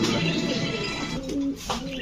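Young racer pigeons coo softly in a short burst of low, throaty calls, heard close and fairly faint against a light background murmur.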